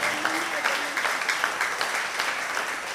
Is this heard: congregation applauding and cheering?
yes